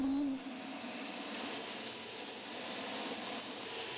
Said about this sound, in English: Getting a jet tractor started requires several steps